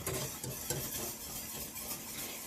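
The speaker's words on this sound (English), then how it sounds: "you want to make sure that you're continuously whisking" Chocolate syrup being whisked in a pan on the stove, heard as a steady run of rhythmic scraping and stirring strokes against the pan, close and fairly quiet, with no talking.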